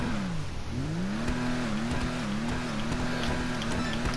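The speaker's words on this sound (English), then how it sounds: "Backfire is pretty much on command, at least with the revs" A car engine revs with its exhaust popping and crackling in backfire, a continuous near loud drone with a wavering pitch and scattered sharp pops over it.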